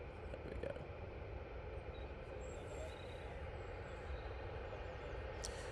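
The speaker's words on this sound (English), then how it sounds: "It's taken 47 minutes for this 737 to get here this morning." A Boeing 737 arriving at Manchester Airport from Amsterdam Schiphol gives a steady, distant jet roar that holds at an even level throughout, with no talking.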